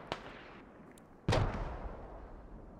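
Mortar rounds firing and impacting in the military shooter game Squad, a faint distant thump followed by a sharper, louder boom that rolls off slowly.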